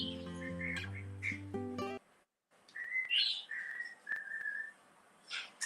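A pet cockatiel whistling and chirping up close, a sustained tonal tune that breaks into a pause, followed by bright sliding whistles and short chirps, with no voices.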